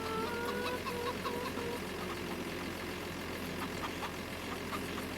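Chickens cluck faintly on a farm in Farming Simulator 25, short scattered calls over a steady low engine-like hum and background noise, with no talking.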